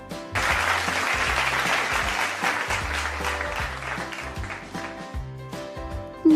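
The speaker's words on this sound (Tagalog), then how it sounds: "tayo pumalakpak kung talagang handang-handa na tayo" Students clap in a classroom, a burst of applause that swells then gradually thins, layered over steady background music.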